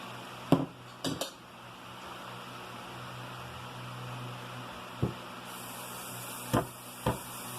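Pancake batter with baking soda being mixed in a bowl in a home kitchen, with a handful of sharp utensil-on-bowl clinks at irregular intervals over steady background noise.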